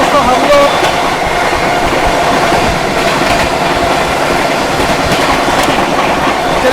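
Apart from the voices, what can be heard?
train overtaking the Prayagraj Lalgarh Superfast Express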